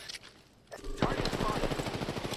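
Rapid automatic gunfire in the Apex Legends battle royale game, a dense close burst of shots starting about a second in and running continuously to the end, after a brief quieter lead-in.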